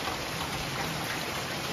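Steady rain falls and blows off a nearby roof on a dark, stormy evening, an even close hiss of drops with no talk.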